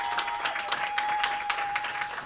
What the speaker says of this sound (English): can we give my students a round of applause